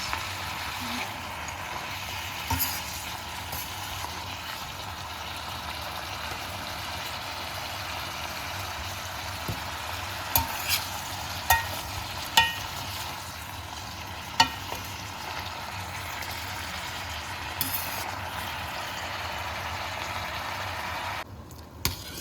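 Frozen mixed vegetables stir-frying in a pan make a low, steady hiss with scattered sharp clatters from a utensil against the pan, and a faint voice can be heard now and then.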